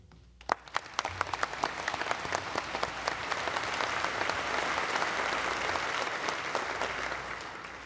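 Audience applause fills a high school graduation ceremony, starting with a few sharp claps that quickly swell into steady, dense clapping from a large crowd in a hall, with no speech over it.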